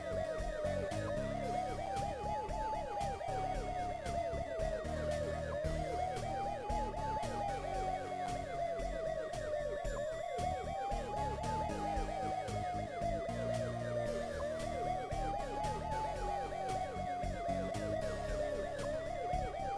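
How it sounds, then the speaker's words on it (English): A police car siren from the video game Police Quest wails continuously in a repeating rising-and-falling pattern, loud and steady, with no talking over it. "I can go through them. I have sirens on."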